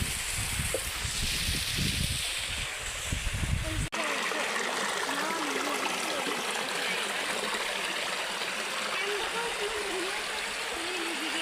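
Stream water flows steadily near the Khodiyar temple at Palitana, a loud continuous rushing and gurgling that stays constant throughout, with a brief stretch of nearby voices and handling noise at the start.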